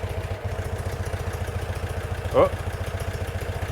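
A Citroen 2CV engine idles just after a top end rebuild, its steady rapid chugging beat running close and even throughout, with a short excited voice breaking in midway.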